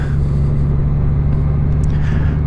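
A 2019 Honda Goldwing DCT motorcycle cruising in fifth gear at about 40, its engine a steady low rumble with wind roar, loud and close, holding even throughout with no voices.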